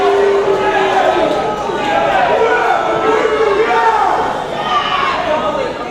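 Crowd at the World Gym Arena roaring and cheering during a women's pro wrestling championship match, a loud, steady mass of voices with a commentator talking over it.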